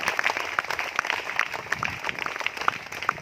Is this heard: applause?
yes